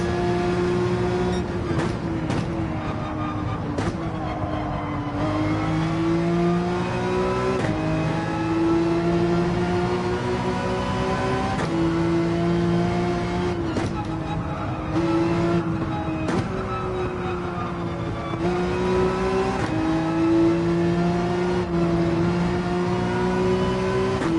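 A race car engine in Gran Turismo 7 during a championship race drones loudly and steadily, its pitch climbing through the gears with brief drops at each shift and a short dip under braking before it revs back up.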